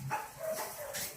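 Dogs bark in a kennel of young bullmastiffs, a few short, fairly faint yips and barks at close range with some whimpering in between.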